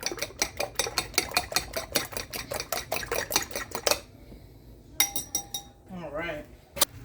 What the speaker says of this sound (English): And I'll beat this all together.